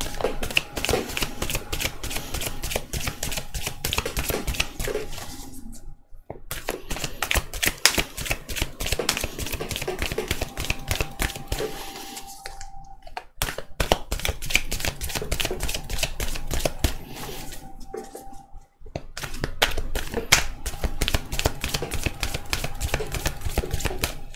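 A deck of tarot cards being shuffled over and over, a dense rapid riffling and flicking that runs in long stretches broken by three short pauses, close and fairly loud, with no talking.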